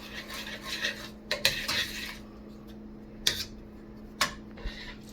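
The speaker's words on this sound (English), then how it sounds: "is just put a little bit of butter to grease my pan, just a little bit." Metal utensil scraping and tapping in a pan while butter is spread to grease it, a few sharp clinks and short scrapes over a faint steady hum, no talk.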